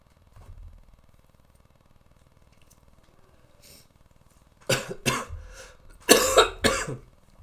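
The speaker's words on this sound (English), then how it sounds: "I'm almost over this damn" After a quiet stretch with a faint low hum, someone close by coughs in a few harsh bursts, then coughs again more loudly.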